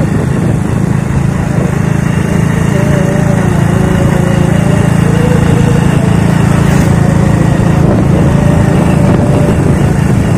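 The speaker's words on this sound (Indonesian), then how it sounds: "Motor antik bosku." An antique motorcycle engine runs continuously during a ride home, giving a steady, loud, buzzing drone with a rough low rumble and no break over the full length.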